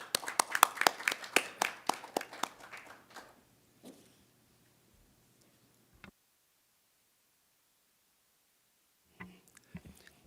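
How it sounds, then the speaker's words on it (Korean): Audience applause at a Korean press debate forum: a short burst of clapping that fades within about three seconds, followed by near silence and a few faint knocks and rustles. "큰 박수로 맞아주시기 바랍니다."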